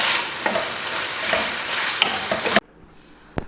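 Steady stirring of spicy vegetable macaroni with salt and soy sauce in a pan, a close scraping and sizzling swirl with soft clinks, stopping abruptly near the end with one faint knock after.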